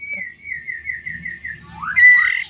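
A young male dove, about 11 days old, gives thin, repeated whistling calls, ending in a louder rising chirp, close by with faint background noise.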